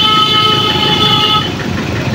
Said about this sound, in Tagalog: Ayun, may bumusina.